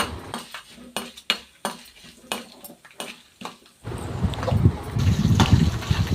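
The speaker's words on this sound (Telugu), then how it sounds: "ఇవన్నీ వేసుకుని మంచిగా ఫ్రై చేసుకోవాలి ఆయిల్లో" Utensils clink rhythmically against a kadai, then a steady crackling sizzle rises as chana dal, urad dal, cumin, mustard seeds, dried red chillies and garlic hit hot oil for tempering.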